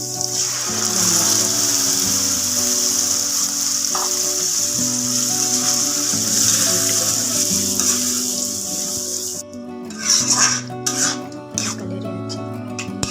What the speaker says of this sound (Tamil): இது நல்லா இந்த தக்காளியோடைய பச்சை வாசனை போகிற வரைக்கும் நல்லா பொரிச்சு வச்சுக்கலாம்.